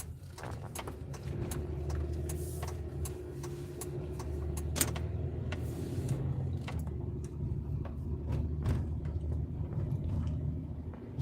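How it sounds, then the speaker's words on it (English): A car rolls along at night, its steady low road rumble and engine drone running continuously and fairly close, with a few faint clicks and rattles from inside the cabin over the top. "Doing some night driving right now."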